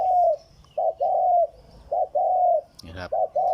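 A trained decoy dove coos in soft, hollow, repeated phrases with short pauses between them, close by, with a brief rustle or flap partway through.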